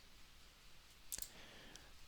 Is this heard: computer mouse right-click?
yes